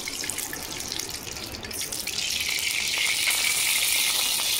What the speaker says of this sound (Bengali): কড়াতে সাদা তেল দিয়ে দেবো।